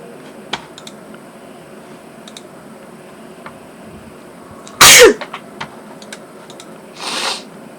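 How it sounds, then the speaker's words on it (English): One sharp, loud sneeze near the middle, followed a couple of seconds later by a softer breathy burst, over a quiet room with faint ticks and clicks. "Sorry for the sneezing, I'm probably going to be sneezing well"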